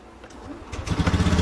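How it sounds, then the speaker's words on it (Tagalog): A Honda Beat FI motorcycle engine sputters and catches, then settles into a rough, rumbling idle close by. "naka-andar na yung motor"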